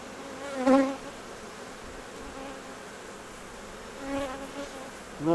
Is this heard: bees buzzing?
yes